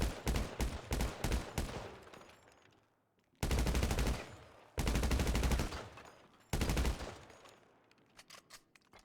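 Automatic gunfire rattles in rapid bursts at a firing range in a video game, loud clusters of shots separated by short pauses, without talk.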